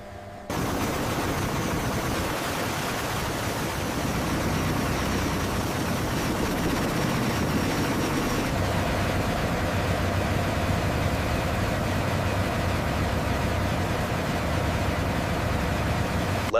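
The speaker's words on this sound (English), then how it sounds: "Advancing throttles now. RPM is climbing steady." V-22 Osprey tiltrotor engines spool up steadily as throttles advance, a loud, continuous broadband roar with a low rumble that builds and holds without pause.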